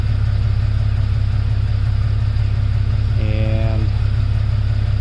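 A Jeep Cherokee XJ fitted with a Walker Quiet-Flow stainless muffler and new catalytic converter idles outside with a steady, low exhaust rumble, while a faint chirp briefly rises over it near the end.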